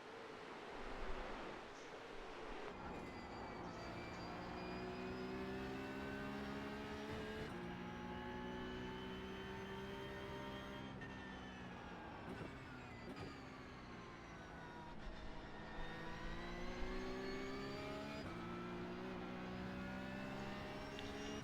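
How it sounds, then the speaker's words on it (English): A Porsche 911 Cup car (992.2) racing at Bathurst in a sim race, its engine whining steadily at high revs, then dropping in pitch several times as the throttle lifts before climbing again, loud and alone throughout. "You can hear me taking my foot off the gas here"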